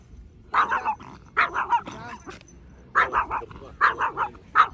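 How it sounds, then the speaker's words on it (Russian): A dog barks in repeated bursts, several sharp barks in clusters at close range, fairly loud, with brief gaps between groups and a hint of growl. "Так она гавкает, да?"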